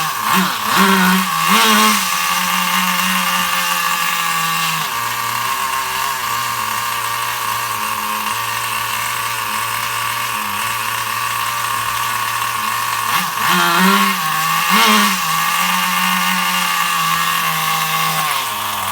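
A Duratrax Overdrive ST 4WD nitro RC truck engine, long untuned, runs loud and steady at a raspy idle, with a couple of brief revs near the start and again toward the end.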